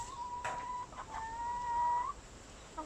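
Chickens in a backyard flock make a few short, quiet clucks and one drawn-out squawking call over soft background noise, with no talking.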